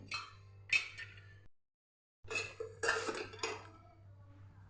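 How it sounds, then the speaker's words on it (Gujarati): Garlic paste being scooped into a bowl with a spoon, a few close metallic scrapes and clinks of utensil against steel, separated by a short stretch of silence. "લસણવાળી પેસ્ટ તૈયાર કરી લીધી છે એક વાટકાની અંદર આપણે કાઢી લઈશું આને"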